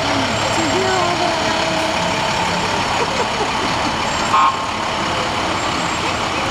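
A truck rolls by during a nighttime lighted parade in Lyons, its engine a steady low rumble close at hand, with crowd chatter and voices mixed over it.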